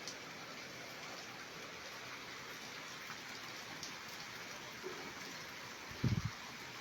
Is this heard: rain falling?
yes